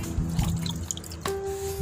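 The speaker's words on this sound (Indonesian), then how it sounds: "kita taruh seperti ini, dia netes terus" Rainwater drips from a bottle turned upside down into a large potted plant. A few soft, close drips and trickles fall over quiet room noise, followed by a faint steady tone.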